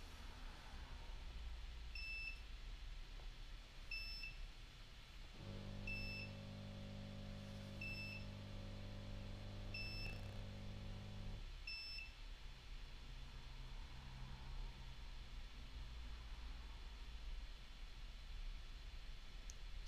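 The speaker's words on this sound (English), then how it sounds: "The recorder will beep during this process." Short beeps from an IVSEC X-Range security video recorder repeat at a steady pace over a constant electronic hiss, with a low steady hum joining in partway through.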